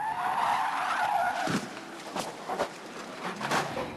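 A race car in motorsport action near Adelaide, South Australia, skids with a loud tire screech that cuts off around midway, followed by several sharp crunching impacts as it slams into a wall.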